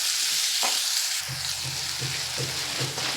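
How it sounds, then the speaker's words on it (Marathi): Chopped onion fries in hot oil while being sautéed for a dried-fish dish, giving a steady close broadband sizzle with soft, regular stirring taps about every half second. "आता त्याच्यामध्ये आपण कांदा चांगला परतून घेऊया। चांगला सोनेरी रंग येईपर्यंत भाजूया आपण।"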